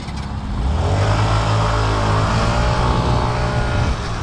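A 125cc scooter engine revs hard and steadily at close range, a dense continuous roar with a rising, sustained pitch and no talk over it.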